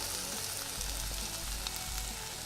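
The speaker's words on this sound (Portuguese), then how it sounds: "Vamos lá então, azeite de oliva, cebola. Vamos saltear a cebola" Onion sautéing in olive oil in a pan gives a steady, close sizzle and crackle that stays even throughout, with no talking.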